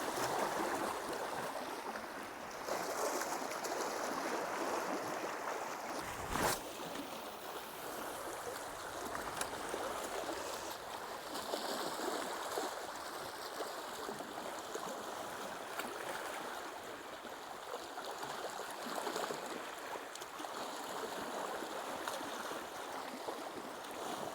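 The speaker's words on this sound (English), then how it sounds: "Tide is rushing in." Water washing and rushing steadily against a shore as the tide comes in at a bass fishing spot, a continuous broadband surge with no voices.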